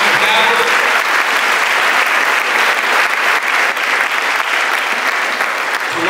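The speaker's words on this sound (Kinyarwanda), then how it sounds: "Mureke rwose aba bantu dukomere Imana amashyi." Sustained loud audience applause at a handover and farewell party, a dense, steady wash of many hands clapping close by for the whole stretch with no break.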